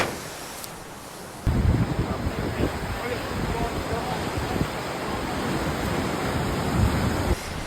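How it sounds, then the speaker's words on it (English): Surf and wind at Bondi Beach near the Icebergs pool, a steady broad rushing wash that swells in abruptly and holds loud and close throughout, with gusts buffeting the microphone and no talking. "This is Bondi Beach. It's really cool."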